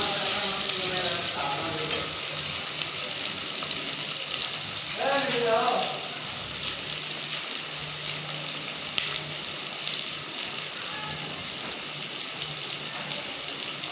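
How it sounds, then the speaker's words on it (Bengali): Onion and garam masala fry in oil in a village kitchen with a constant close sizzle, broken now and then by stirring. A voice speaks briefly in the background. "পেঁয়াজ এবং গরম মশলা যখন ভাজা হয়ে যাবে"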